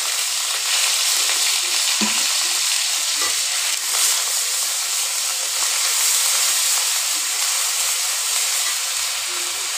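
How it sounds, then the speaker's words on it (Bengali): Onion and garlic paste fries in mustard oil in a wok, giving a loud, steady sizzle and hiss throughout with occasional stirring scrapes. "দেখুন কড়াইতে সরিষার তেল দিয়ে দিলাম, দিয়ে এর মধ্যে পেঁয়াজ রসুন বাটা দিয়ে দিলাম।"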